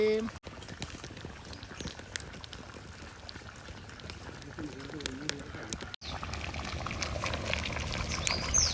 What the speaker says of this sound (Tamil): நண்டு குழம்பு கொதிக்குது.